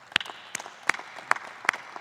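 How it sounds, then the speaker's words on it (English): At a 2017 law school graduation ceremony, a sparse round of applause rings out as a handful of sharp, separate handclaps at uneven intervals, fairly close and moderately loud. "Let's thank them and give them a round of applause."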